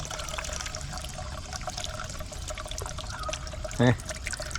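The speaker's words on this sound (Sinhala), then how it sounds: "වතුර පාර" A stream beside the Balana railway track runs and trickles continuously nearby, a steady gurgling flow, with a short tonal chirp near the end.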